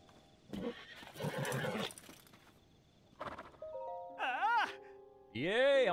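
Horse in the video game Tears of the Kingdom giving two loud, close whinnies near the end, after a person's speech and some soft game sounds.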